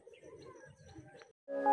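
Homing racing pigeons back in the loft after a first training toss, with soft cooing and faint chirps over low murmuring for most of the stretch, then a louder harmonic burst close by at the end.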